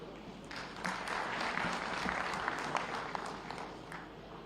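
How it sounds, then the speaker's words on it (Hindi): Sustained applause from an audience at the Amar Ujala Samvad event attended by Chief Minister Yogi Adityanath, a dense, steady clapping that holds at an even level throughout with a few sharper claps standing out. "जोरदार तालियां।"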